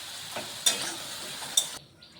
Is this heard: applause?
no